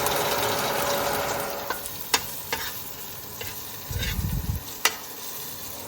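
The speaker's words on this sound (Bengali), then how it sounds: "একটু রসুন ফোড়ন দিতে হবে সামান্য তেলে যা একটু রসুনটা ভাজতেই যা একটু তেল দেওয়া হয়েছে" Garlic frying in a small amount of oil, a steady soft sizzle with occasional stirring clicks and scrapes of a utensil against the pan, close and moderately loud, no talking.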